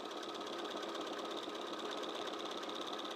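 A sewing machine runs steadily while stitching fabric, a continuous mechanical whir with a fast, even rhythm and no talk over it.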